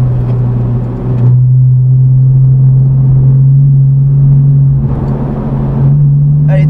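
Porsche engine held at a steady drone under acceleration, a strong continuous low hum with brief surges in throttle, close and loud throughout, with no talking over it.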